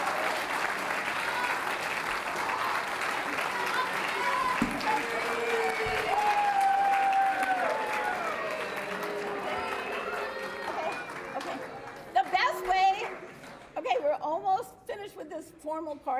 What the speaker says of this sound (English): How about a round of applause for everybody in this room?